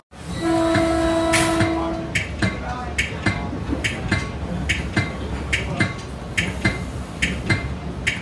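A passenger train with an onboard kitchen and rooms sounds a long horn blast close by, then runs on with steady, rhythmic clatter of wheels over rail joints.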